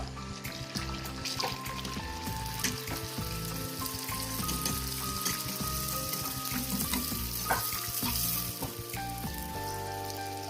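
Another naan puri sizzles in a wok of hot oil, giving dense, continuous crackling and bubbling with occasional scrapes as it is moved about. No one speaks.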